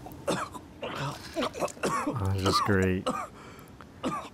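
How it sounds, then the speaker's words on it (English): A character in the horror video game The Evil Within coughs and hacks wetly in a rough burst, mixed with someone talking over the game audio. "He's gonna start coughing up some junk."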